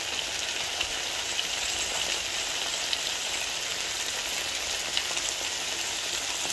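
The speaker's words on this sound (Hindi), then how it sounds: "जब तक आलू अच्छी तरह भुनना जाए हमने इनको भून लेना है।" Potatoes frying in a pan, a faint, even sizzling hiss with light occasional ticks, steady and uninterrupted throughout.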